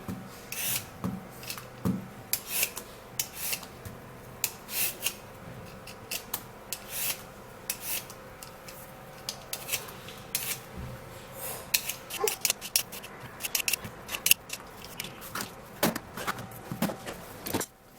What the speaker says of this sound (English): So you have to remove the back or the peel of the cucumber.